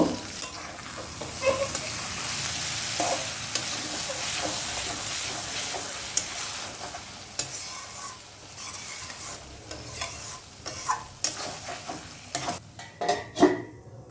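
Kochur loti (taro stolons) cooking covered on a low-medium gas flame, with a steady soft sizzle and hiss throughout, plus occasional light clinks and bubbling pops growing busier toward the end.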